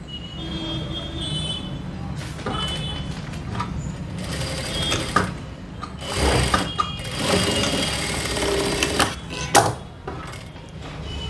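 Sewing machine stitching folded blouse fabric, a close mechanical rattle in uneven bursts of running and pausing, with no talk.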